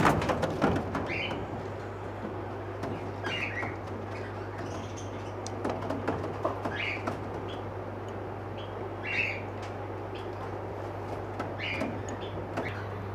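Pigeons, Mayurpankhi fantails among them, fill a Medinipur bird and aquarium shop with repeated short coos and chirps over a steady mains hum, alongside sharp clicks and rustles from cages nearby.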